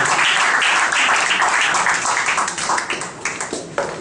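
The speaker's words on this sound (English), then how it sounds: "Please, another round of applause for our guest." An audience at a business school lecture hall applauds a guest speaker, loud, dense clapping from many hands that thins toward the end into a few scattered, separate claps.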